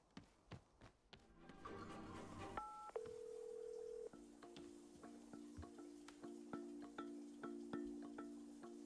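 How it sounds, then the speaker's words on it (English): A phone in a video game demo gives a series of electronic dial-tone and keypad beeps, then a steady sustained ringing tone under scattered taps and clicks, fairly quiet. "I could have sworn I just heard like a phone ring thing."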